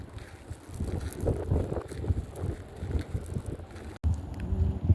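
Wind gusts buffet the microphone on an outdoor walk while searching for flint chips, a rough low rumble that swells and fades throughout, with a brief dropout near the end.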